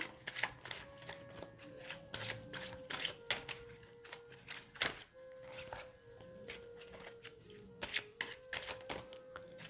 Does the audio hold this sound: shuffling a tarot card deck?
yes